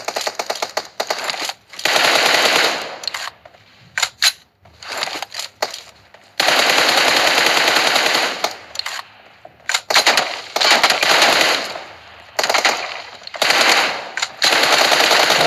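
Automatic weapon fire from a PUBG Mobile team deathmatch, loud repeated bursts of rapid shots separated by short pauses, some bursts long and sustained, with no talking.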